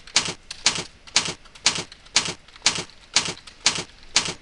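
Typing on a computer keyboard in regular bursts, nine evenly spaced clusters of crisp, close key clicks with short pauses between them while bulleted points are entered in PowerPoint.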